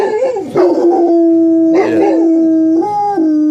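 A dog howls loudly and close by in a long, wavering outdoor howl, rising and falling in pitch with a few breaks where the tone bends and resumes.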